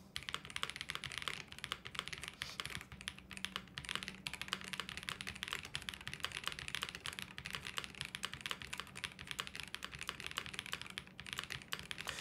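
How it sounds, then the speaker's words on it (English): Rapid, continuous typing on a quiet mechanical keyboard with lubed JWK Bluey switches in an M93i build, crisp, quiet key clacks in a steady stream, close by, with no voices. "I think this is gonna be kind of a quiet keyboard though"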